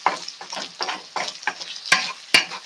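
Haluski frying in a pan, with rhythmic bursts of sizzling as the food is stirred about every half second, plus a couple of sharp clinks of a utensil, close and moderately quiet with no talk.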